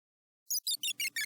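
A gated gross beat processed with EQ delay in music production plays as five short, evenly spaced chopped bursts with a rising, then settling, tonal sweep, over a low thudding layer that enters partway through.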